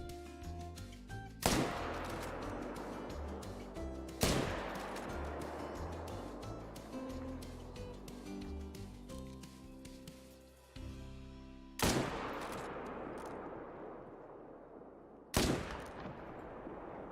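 Four loud, sharp rifle shots from a hunting game set in the wild, fired at stags, spaced several seconds apart, each blast followed by a long rolling echo over continuous outdoor ambience.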